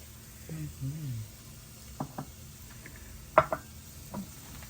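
Fresh butter lettuce being cut on a board, a few sharp close knife taps spaced irregularly, quiet between strikes, with a voice briefly speaking at the start.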